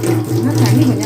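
Tap water runs steadily and loudly into a sink while goat intestines are washed, a continuous close splashing flow with no speech.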